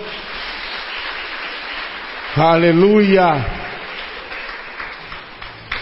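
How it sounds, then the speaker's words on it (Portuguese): A church congregation keeps up a background wash of applause while a voice near the middle shouts a loud, drawn-out exclamation over the clapping. "Você pode aplaudir o Senhor?"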